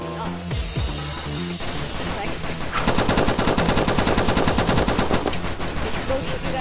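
Rapid automatic gunfire in the Roblox game Squadron, a dense continuous burst of shots that gets louder and busier partway through, with game music and faint voices underneath.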